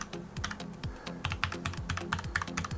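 Steady, rapid typing on a Creative Vanguard K08 RGB mechanical gaming keyboard, a dense run of close, crisp key clacks and thock-like bottom-outs heard alone without talk.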